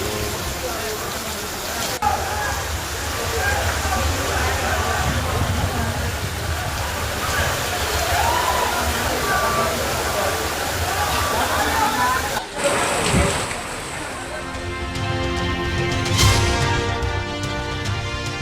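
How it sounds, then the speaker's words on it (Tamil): Floodwater left by heavy rain at Koyambedu market in Chennai sloshes and splashes in a steady, loud watery wash, with a voice speaking over it before a sharp cut to quieter sound. "ஒரு மணி நேரம் பெய்த கனமழையால் கோயம்பேடு சந்தையில் தேங்கி நிற்கும் வெள்ளம்."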